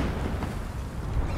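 A cannon firing in the video game Rec Room, a deep continuous rumbling boom that stays loud and dense throughout, with no distinct pauses.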